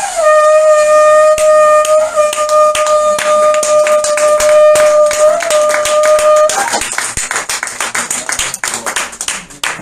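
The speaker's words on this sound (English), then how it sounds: "So that is the sound of the shofar." A shofar, a ram's horn, gives a long, loud, steady blast lasting several seconds, then breaks off into clapping and tapping from a gathered crowd.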